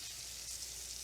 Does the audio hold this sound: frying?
yes